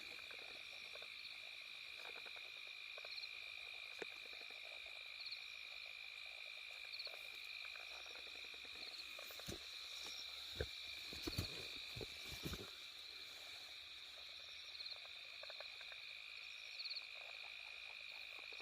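Frogs croak in a rice field at night, a steady high chorus of calls with scattered nearer croaks and insect chirps, distant and faint with no talk.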